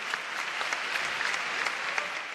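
Steady, dense clapping from a large keynote audience at Web Summit rolls on without break, moderately distant and even in level.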